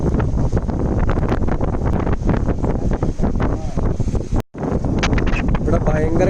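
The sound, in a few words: strong wind on microphone at Dhanushkodi coast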